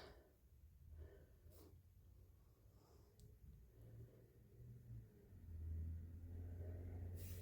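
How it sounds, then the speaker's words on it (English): A car drives past outside, heard as a faint, low rumble behind quiet indoor room tone that swells near the end. "Oh, there's a car going past."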